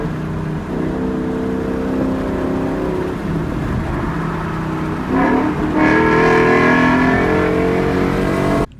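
The engine of a 2019 Ford Mustang GT with paddle shifters, driven on back roads, holds a steady droning cruise, then revs up with a rising, throaty roar around the midpoint and stays loud before cutting off abruptly.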